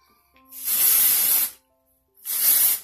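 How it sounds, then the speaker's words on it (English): Two close hissing bursts of dry shampoo sprayed onto hair from an aerosol can, the first about a second long and the second shorter, separated by a brief silence. "the thing with dry shampoo is you don't want to use too much"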